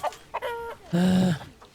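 Sussex chickens in the zoo-building game Planet Zoo cluck in a few short bursts, ending in a louder, drawn-out squawking call. No one speaks.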